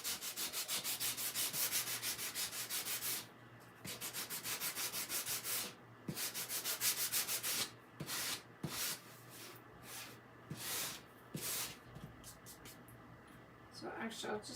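Sanding a dusty chalk-stamped surface for holiday stamp crafting, a steady close rubbing scrape in repeated strokes that pause briefly between passes, with talk over parts of it.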